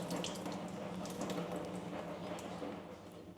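Water drains in a steady splashing, trickling rush from soaked blueberries, continuous and close for a few seconds before easing slightly.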